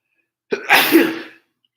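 A single sneeze from one person, a sharp close intake rising into one loud burst that trails off quickly, alone against silence.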